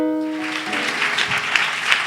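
A church congregation breaks into applause and acclamations after a blessing, dense clapping building from a fading sustained tone into a lively, uneven burst that carries on loudly to the end.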